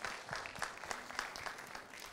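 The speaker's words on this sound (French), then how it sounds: "Applaudissez très fort." An audience at a ciné-club screening and discussion applauds, a short stretch of soft, steady clapping heard from a distance at low volume.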